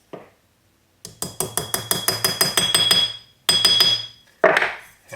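A hammer strikes a rivet on a sterling silver cuff bracelet with 18K gold rivets in a quick run of bright, ringing metallic taps, followed by a few louder, heavier blows.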